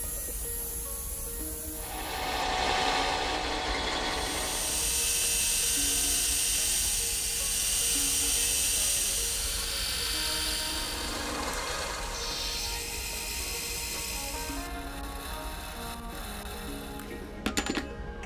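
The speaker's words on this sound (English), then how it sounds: "Gripping the part here permits full access to machine the base, as well as drilling of the central hole." A metal casting gripped in a lathe has its base machined and its central hole drilled, part of building a Byzantine sundial-calendar. A steady, fairly loud grinding whir continues throughout, with no talking.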